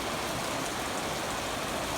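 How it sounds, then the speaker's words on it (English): Steady, fairly heavy rain from an afternoon thunderstorm falls continuously with a dense, even hiss across the full two seconds, with no talk over it. "It's still raining pretty good."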